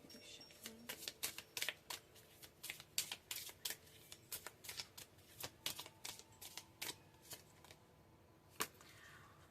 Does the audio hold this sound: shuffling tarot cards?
yes